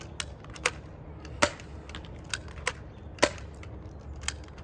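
Dart Zone Pro Nerf blaster being primed and fired, a series of sharp plastic clacks and snaps in an uneven rhythm, close by with a low background hum.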